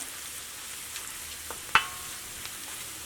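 Turmeric powder fries in a hot iron pan, giving a faint, steady background sizzle broken by one sharp metallic clink and a few light taps.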